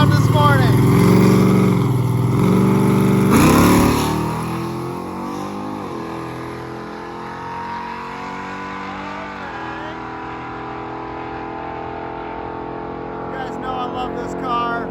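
A big-block Dodge Dart drag car launching down the strip at a drag-and-drive event, loud revving engine roar near at first, then fading as it pulls away into the distance, with people talking.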